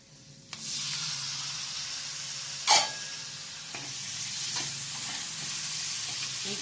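Tomato pieces drop into a pan of dry fish curry, setting off a steady close sizzle, with one sharp burst of hiss as they land and a few soft stirring scrapes after.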